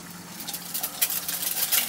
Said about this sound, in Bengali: ডিমগুলোকে ভেজে নেব।